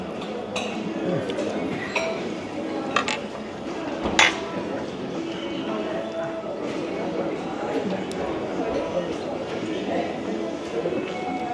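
A teaspoon stirs cream into coffee in a cup at a Hilton hotel breakfast, with scattered light clinks of metal on china over busy restaurant chatter and dish clatter.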